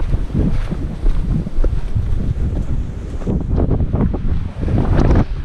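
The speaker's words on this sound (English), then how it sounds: "Plus there might be a bit of wind" Strong coastal wind at Punta del Hidalgo buffeting the microphone, gusty rumbling bursts that rise and fall continuously with a faint wash of surf underneath.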